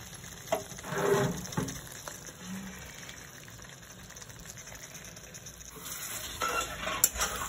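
Chicken going into a hot, bubbling gravy and stirred, soft sizzling with a few scraping spoon strokes against the pot, fairly faint and close.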